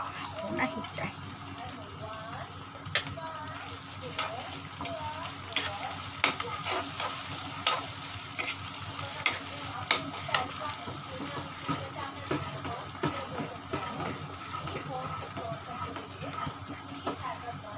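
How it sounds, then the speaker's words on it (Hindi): Curry leaves dropped into hot chutney sizzle and crackle steadily while the pan is stirred, with scattered sharp pops over a constant frying hiss and a voice talking intermittently throughout. "कड़ी पत्ता मैं इसमें ऐड कर दे रही हूँ।"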